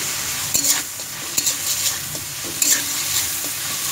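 Chopped tomatoes fry and sizzle in a pan while a spoon stirs them, with a steady close hiss and several sharp scrapes and clacks at irregular moments.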